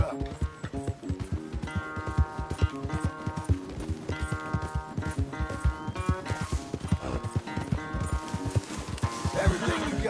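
Horse hooves clip-clop in a steady, quick rhythm close by in a corral, with occasional neighs and a voice urging the horse on over a musical background.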